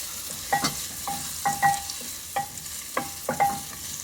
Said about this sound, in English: I'm going to stir my other onions over here